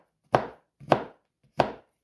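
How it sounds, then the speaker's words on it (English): Knife chopping chocolate into small pieces for protein brownies: three sharp, separate chops about two-thirds of a second apart, close and clear with no talk. "I just haphazardly chop one way, then chop the next."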